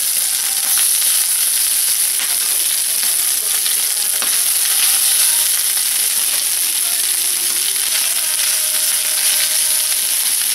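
Chicken sisig sizzles on a preheated hot plate, a loud, steady frying hiss with crackling pops that runs unbroken the whole time, close and alone with no talking.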